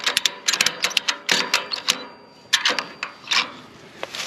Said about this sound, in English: Throw this strap on right there. Hold the ratchet with one hand.